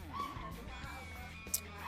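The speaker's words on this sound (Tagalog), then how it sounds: "Medyo ang ingay ng mga aso ko." Several small dogs yapping and whimpering indoors in a house, faint and a short distance away, a brief burst of yips plus one sharp bark near the end.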